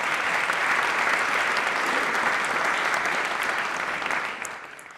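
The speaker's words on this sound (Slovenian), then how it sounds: "Z nami so tudi David in Buši, dajmo na aplavz oba, dajmo no." Audience at a comedy roast breaks into loud, sustained applause with scattered cheers, a dense wall of clapping that holds steady and begins to taper off near the end.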